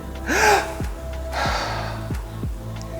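A single deep breath drawn in sharply near the start, followed by a quieter, slower exhale, close and clear against a soft background.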